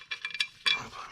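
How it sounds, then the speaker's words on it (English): A wrench ratchets engine bolts down to torque spec on a 2012 Honda Accord V6, with a quick series of close clicks followed by a brief grinding ratchet sweep. "I'll go with the torque specs and get those bolts torqued down"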